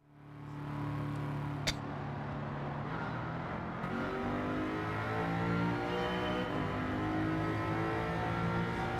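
A race car in Gran Turismo 7 drones steadily after a brief click, the engine tone holding and gently rising as it revs, loud and continuous with no talk.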